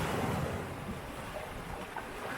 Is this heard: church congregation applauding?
no